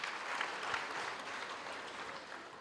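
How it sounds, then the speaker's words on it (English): Audience applause fills a university graduation ceremony hall, a steady dense clapping from a large crowd that holds at an even level throughout with no talk over it. "Can we give the academics and support a round of applause?"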